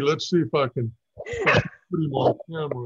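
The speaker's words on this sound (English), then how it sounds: "I believe that's a dog." A dog gives a short burst of whimpering, yipping noises in the middle of a man's speech, nearby and moderately loud, with talking before and after.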